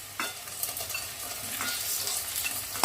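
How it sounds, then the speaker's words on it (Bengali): Bitter gourd fried until crisp crackles in a pan while being stirred, a soft sizzle broken by a few short scraping strokes of the spoon. "উচ্ছে ভেজে নিয়েছি একটু কড়া করে, এবার এটা তুলে নেব।"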